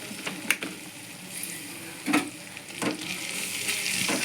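Ginger-garlic paste hitting a hot pan for a Kerala recipe, giving a few short sizzling bursts and spatters at close range, with a soft frying hiss between them.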